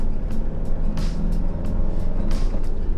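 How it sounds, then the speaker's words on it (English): A car rolls along an old airfield runway, its steady road rumble and engine drone filling the clip, with a few brief bumps or knocks breaking through at intervals. "Driving along the old runway."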